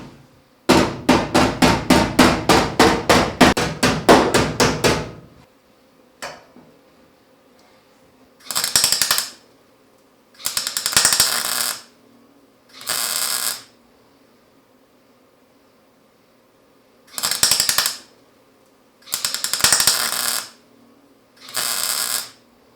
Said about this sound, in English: Keep in mind, this is not professional welding. But it's getting the job done.